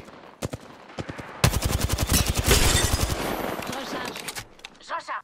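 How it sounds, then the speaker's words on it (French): Loud, rapid automatic gunfire from the game Apex Legends, with a few single shots leading into a sustained burst of fast shots, and a voice heard briefly near the end. "On tire dessus."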